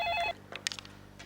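A telephone rings in a home, a bright, loud trill that cuts off after a third of a second, followed by faint rustling and soft household noise.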